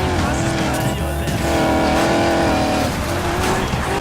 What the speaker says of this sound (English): we're here in the Range Rover that we cannot drive except for this event. And it's a cool car, I mean, listen to the sound.